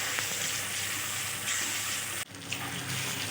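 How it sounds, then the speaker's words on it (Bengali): Ginger-garlic and coriander paste sautéing and being stirred in a pan, a steady broadband sizzle with a brief dip partway through, no talking. "এবার উপকরণগুলো খুব ভালোভাবে নেড়ে চেড়ে আমি কষিয়ে নেব"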